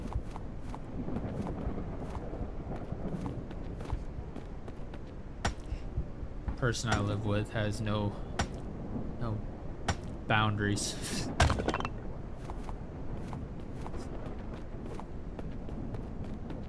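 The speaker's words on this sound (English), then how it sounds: "She's tenderizing chicken." Muffled thumping from a housemate pounding chicken with a tenderizer in another room, a series of dull knocks scattered across the scene beneath someone talking and game sounds.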